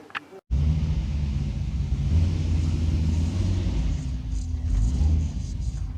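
A Porsche 944 with a swapped LS engine drives along, its deep, steady rumble loud and close from inside the car, with a brief dropout at the start.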